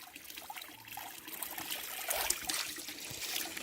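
River water flowing and trickling nearby on a family farm in the Philippines, a soft continuous babbling with light splashes, faint and steady without talk.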